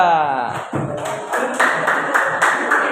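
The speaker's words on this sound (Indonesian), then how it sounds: "Yuk tepuk tangan buat baris yang kedua." School students clapping together for the second row, a run of fairly regular claps at a steady rhythm, close and loud, with a voice speaking over the start.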